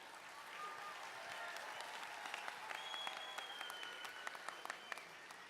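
An audience applauds at an awards ceremony for a grades 5 and 6 tech challenge, with steady clapping and scattered sharper claps that carry on for several seconds at moderate volume.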